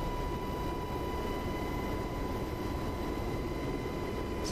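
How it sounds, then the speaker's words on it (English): An Mi-8 helicopter flies by in a video game, heard as a steady, even drone that holds at a moderate level throughout, with no voices. "It's the MI8 flying."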